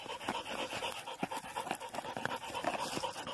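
Hunting dogs pant rapidly and close by in quick rhythmic bursts during an armadillo hunt, loud and continuous.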